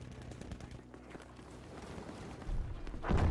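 Rapid ZH-29 semi-automatic rifle fire from Battlefield 5 crackles throughout as follow-up shots at range, with a louder, heavier burst near the end amid ongoing game ambience.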